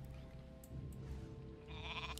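Sheep bleat in Warcraft 3 over steady game music and ambience, a few short wavering cries standing out faintly against the soundtrack.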